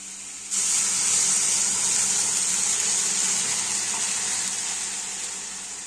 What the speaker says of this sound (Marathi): ह्यात आता मीठ आणि एक ग्लासभर पाणी टाकूया